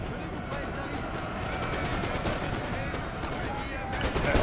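Musket volleys crackle almost continuously in a Napoleon Total War online battle, a dense, steady rattle of gunfire that swells slightly toward the end, with no talk.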